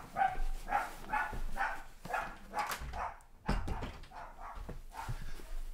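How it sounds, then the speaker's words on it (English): Dogs bark repeatedly indoors in a rapid, uneven series of loud yaps and woofs, with a brief pause midway before the barking resumes. "Sorry, dogs went crazy."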